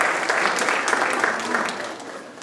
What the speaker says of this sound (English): if we can do a big round of applause for those three there